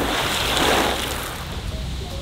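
A fish habitat structure thrown off the end of a dock into a backyard pond: a single broad splash that swells and fades under constant wind rumble outdoors.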